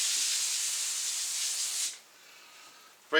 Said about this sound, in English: So, little brake cleaner